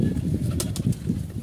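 Pigeons at the Tongi pigeon market in Bangladesh coo in a low, busy murmur, with a few quick bursts of wing flapping up close, loud and without talk.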